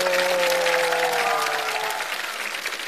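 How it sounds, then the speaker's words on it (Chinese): A studio audience at a comedy roast show applauds in a dense, steady wash of clapping lasting about three seconds, with a sustained musical tone underneath that slowly fades. "掌声在哪里？"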